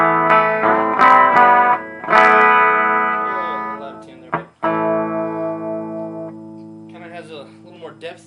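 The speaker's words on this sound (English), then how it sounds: "let's go back to the clean sounds now and hear what it sounds like through a 12-inch speaker" Clean electric guitar played through an old EV SRO 12-inch speaker, with ringing chords and single notes sustaining and fading in a roomy, effected tone, ending with a few quieter picked notes.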